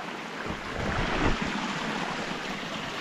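Village stream running past a river bank in rural Afghanistan, a steady broadband wash of flowing water with no talk, swelling slightly midway through.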